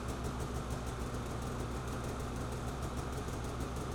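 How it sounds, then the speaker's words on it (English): A Polaris Indy Adventure 137 snowmobile engine runs at a steady idle after starting, a constant close mechanical drone with low rumble and no breaks or talk. "Start the engine and ensure there are no warning lights present."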